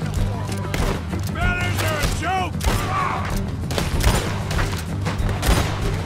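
Gunfire during a shootout in Red Dead Redemption 2: sharp repeated shots and booms scattered through the clip, with someone talking over the din.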